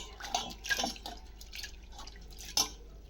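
Water being poured off washed flattened rice in a bowl, giving soft close trickling and dripping with a few small splashes and clinks.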